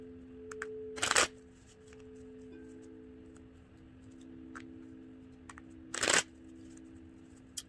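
Two short bursts of oracle cards being riffle-shuffled close by, separated by quiet with faint taps and ticks.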